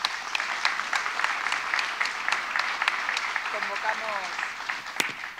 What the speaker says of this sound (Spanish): Javier González Fraga, un aplauso por favor para él.